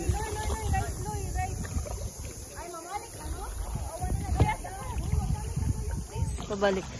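Engine drone and wind buffeting from a moving boat on open water near El Nido, Palawan, with voices talking over it and occasional splashes.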